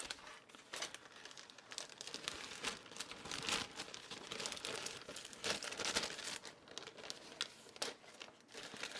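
Clear plastic parts for an Eduard 1/48 F6F-3 Hellcat model kit rustle in a Ziploc bag, a close, steady crinkling with sharper crackles throughout, with no talking.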